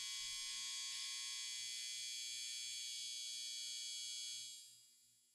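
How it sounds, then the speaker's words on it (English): A clothes dryer buzzer at home sounding a long, continuous electronic buzz at moderate distance, holding steady for several seconds before fading out, with no talking. "you hear this? That was my dryer."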